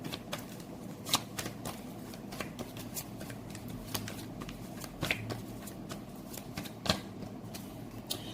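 Tarot cards being shuffled and drawn at close range: a steady soft riffling with sharper card snaps scattered throughout and no talking.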